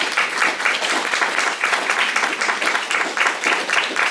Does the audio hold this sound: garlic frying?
no